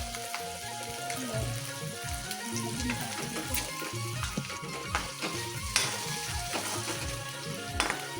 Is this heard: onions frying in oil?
yes